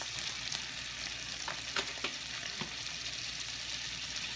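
Butter with Italian seasonings for seafood rice sizzles softly in a pan as an even, faint frying hiss, with a few light ticks and scrapes of a utensil and no talking.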